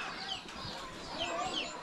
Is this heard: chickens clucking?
yes